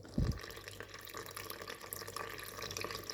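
Lukewarm water, about 400 ml, is poured into a mixing bowl while making dough, a soft continuous trickle and splash close by after a brief low thump, with no voices.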